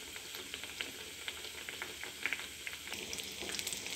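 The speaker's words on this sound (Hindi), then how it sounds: "पापड़ी फ्राई होकर रेडी है।" Papri deep-frying in oil gives a steady, bubbling sizzle with small crackles and pops throughout, moderately close and without voices.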